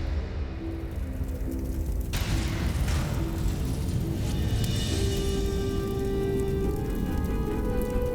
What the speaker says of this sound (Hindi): विस्फोट हो जाएगा अग्नेयास्त्रों में।